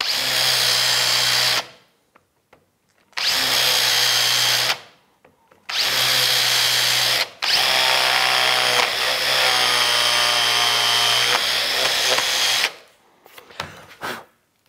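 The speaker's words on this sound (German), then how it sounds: "Als nächstes hat er drei Löcher gebohrt und sie durch seitliche Bewegung verbunden." A power drill bores three holes in a workpiece and then joins them by moving sideways, heard as close, loud whining bursts separated by brief silences, with a long final grinding run before a few short trailing noises.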